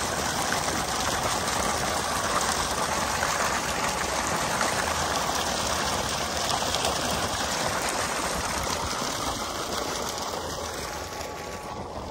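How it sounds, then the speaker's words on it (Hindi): A water pump motor runs steadily near a farm field, its constant hum mixed with water gushing and trickling out, loud and continuous throughout before easing slightly at the end. "यहाँ आके चलाई है मोटर"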